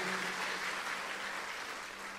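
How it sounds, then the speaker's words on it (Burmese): A church congregation claps during a sermon, a steady wash of applause from many hands in a large room that fades slightly toward the end, with no talking over it. "ယေရှုကိုလက်ခုပ်တီးလက်ကုံပြုကြရအောင်"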